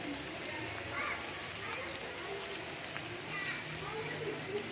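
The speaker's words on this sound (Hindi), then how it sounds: "बहुत तेज़ बारिश लग गई है" Heavy rain falls steadily on a village rooftop in Punjab, a dense, even hiss throughout, with someone speaking over it.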